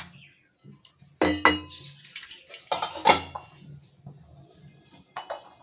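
A metal lid clanks down onto a cooking pot of spiced chickpeas for chole bhature, with a few sharp close clangs and lighter clinks of cookware on the stove.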